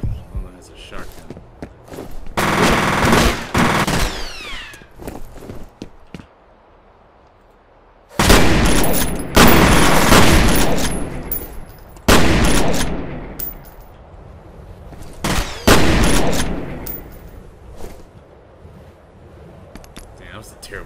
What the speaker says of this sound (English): Someone has a shotgun.